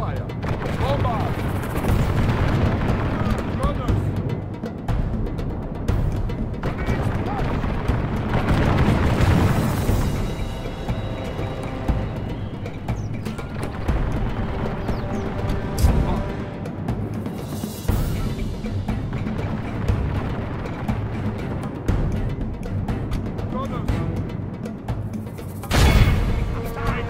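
Booming artillery bombardment in Medieval 2 Total War, with repeated heavy blasts and impacts over a dense battle din, loud and continuous, with voices in the mix.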